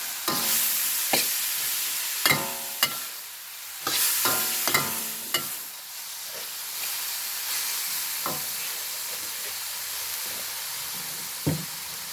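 Bean sprouts and pork stir-fried in a pan, a steady loud sizzle with repeated scraping strokes of the spatula at irregular intervals, heard alone without talk.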